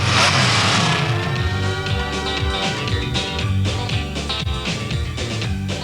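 Engines of cut-tire mud racing trucks at a 1990 NMRO All-Stars event in Bayou George, Florida roar and rev continuously, with overlapping rising and falling engine notes filling the air at close range.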